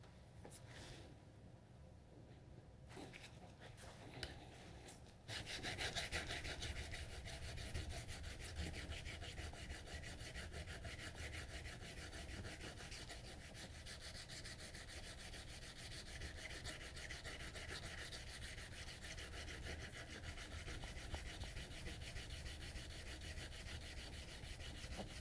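Steady, continuous abrasive rubbing as a Moritaka gyuto kitchen knife is thinned on a 140 grit abrasive, a close, even grinding that runs unbroken for the whole stretch after a quieter start, with no talk over it.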